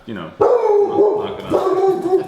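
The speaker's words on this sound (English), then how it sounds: "Dog's going crazy." A dog indoors barks excitedly in two sharp bursts, close and loud, with a person talking over it.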